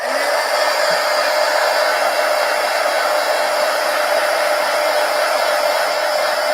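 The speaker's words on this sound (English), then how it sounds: "Let's hit that with the heat gun." A heat gun blows hot air to dry ink on an Inktober art piece, a steady loud whooshing hiss that holds evenly from start to finish with no talking.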